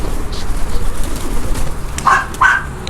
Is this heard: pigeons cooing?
yes